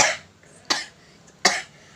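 Three sharp coughs from a person with a week-long cold, each a harsh burst spaced roughly evenly, close and alone in a quiet room.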